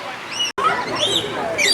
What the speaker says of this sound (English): Oh, how appropriate, they're called rainbow lorikeet.